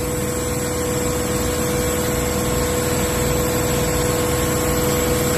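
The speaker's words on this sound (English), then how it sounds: "the compressor." Air compressor running steadily in a garage workshop during a 1965 Mustang Coupe project, a constant droning engine-like hum with a faint high whine, unchanging throughout and with no talk.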